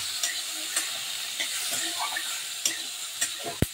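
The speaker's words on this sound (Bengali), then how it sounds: "রসুন, দিলাম কাজু বাদাম কিছুটা, দিলাম কাঁচা লঙ্কা। এবার ভালো করে একটু ভেজে নেব" Garlic, cashew nuts and green chillies fry in a pan, a steady sizzling hiss with regular scrapes of a utensil and one sharp knock near the end.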